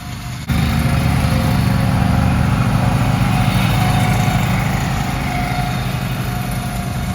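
A lawn mower kicks on abruptly and keeps running loud and close, its engine holding a steady buzzing drone throughout.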